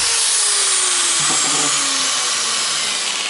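A Hitachi angle grinder runs steadily after maintenance, giving a loud, continuous high whine with a faint falling tone as it spins, heard alone with no talking.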